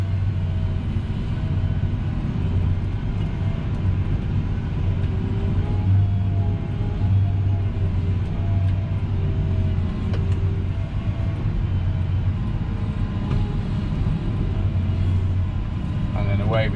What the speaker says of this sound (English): the tractor is now turning in the opposite direction. I still then alter my driving direction,